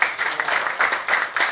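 Seminar attendees give a brief burst of applause, a short run of clustered hand claps that swells and fades unevenly within a couple of seconds.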